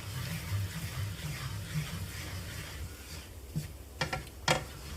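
Water is poured into a pan of frying spices for beef madras, giving a close, steady hiss of sizzling and splashing. A few sharp clicks and knocks come near the end, and no one speaks.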